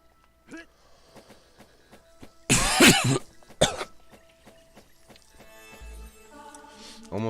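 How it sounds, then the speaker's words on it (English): A person coughs nearby with one loud, harsh burst and then a shorter second cough, and quieter background sounds come before and after. "Almost coughed something up that time."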